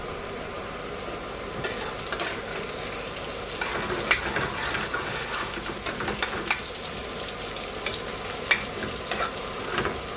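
Vegetables sautéing in a pan for a beef dopiaza curry: a steady, close sizzle and fry with occasional stirring clatter, continuous for several seconds without talk.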